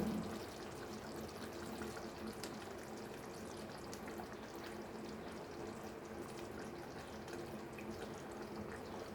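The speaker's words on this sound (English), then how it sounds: "at this point we'll add our coconut juice" Coconut juice poured into a pan of Malvani chicken curry, giving a steady watery pouring and sizzling wash that runs evenly throughout at moderate level, with no talk.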